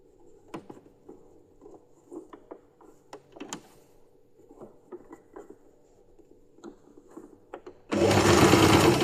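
Sewing machine stitching a fabric glove, a run of quick mechanical needle taps in short bursts with pauses between, close and moderately loud, then a sudden loud burst of noise at the very end.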